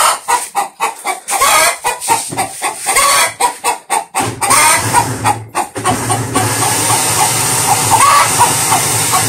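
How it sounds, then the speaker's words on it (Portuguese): Chickens cluck in quick, irregular bursts close by, followed by a steady hissing, sizzling noise from a frying pan with a low hum underneath. "A galinha quer pôr no frigideira."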